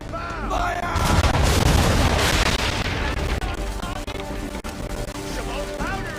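Ship cannons firing a broadside in the Assassin's Creed 3 video game: a loud, sustained volley of booming blasts and crashes, with shouted commands over it.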